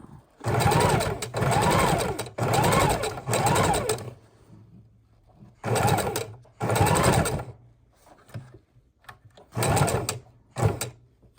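A sewing machine stitching a miniature junk journal made from a playing-card box runs in loud, close bursts of rapid stitching, with short pauses between runs where it stops and turns the work.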